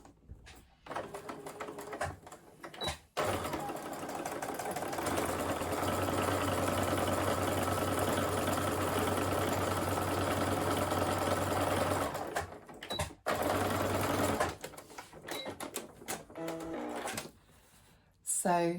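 A sewing machine runs a 1.5 cm plain seam in one long, steady, close whir, with short stops and restarts for back stitching at either end; a voice talks briefly around it.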